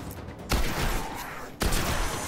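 Two loud, sharp shotgun blasts in the Destiny video game, about a second apart, each a broadband boom with a lingering tail, heard alone without talk.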